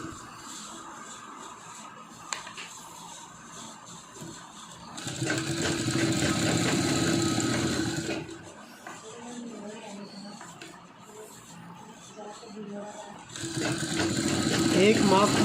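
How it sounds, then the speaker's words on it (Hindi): A sewing machine stitches lace onto a cloth mask in two loud, steady bursts of close, rapid mechanical whirring, with quieter handling and faint talk in the gaps between them. "अब इसको इस तरह से इसकी सिलाई करेंगे।"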